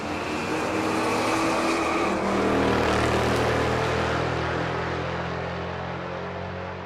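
Drag race cars, a fourth-gen Camaro and a Nova, rumble loudly side by side in a steady broad engine roar that builds slightly and then eases, with no talk over it.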